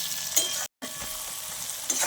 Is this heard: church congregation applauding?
no